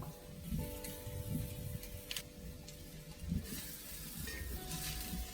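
Jackfruit being stir-fried in a pan with grated coconut and curry leaves for a Palakkad-style idichakka thoran, a steady close sizzle with soft scraping stirs and occasional utensil knocks against the pan.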